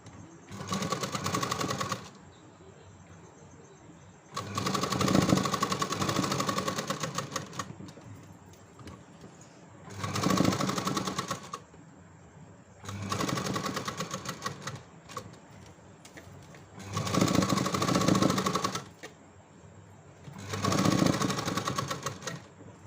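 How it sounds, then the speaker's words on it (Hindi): Sewing machine stitching a small seam around a boat-neck back blouse, running in six steady bursts of rapid mechanical chatter with brief quiet pauses between, close and clear. "छोटी सी सिलाई लगाना है इसके ऊपर से चारों ओर"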